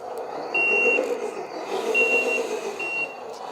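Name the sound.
toy truck reversing beeps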